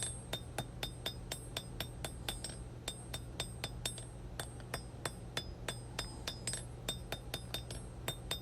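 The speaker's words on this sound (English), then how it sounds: "Notice every few blows I lay it flat on the anvil just to straighten everything out." A blacksmith hammers a high carbon steel knife on an anvil, a fast, steady run of sharp metallic ringing blows, bright and fairly close, with a low hum underneath and no talk.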